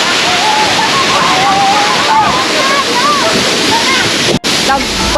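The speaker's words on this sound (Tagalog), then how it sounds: "sa likod ko yung falls" A waterfall roars loud and constant, a dense wash of rushing water filling the scene, with high voices and chatter audible over it.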